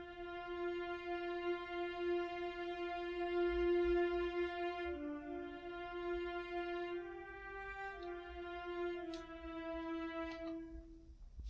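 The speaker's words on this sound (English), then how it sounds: "viola, which in itself sounds like this." A lonely solo viola holds long sustained notes and moves slowly between pitches, smooth and rich in overtones, played alone and fairly quiet for the whole stretch.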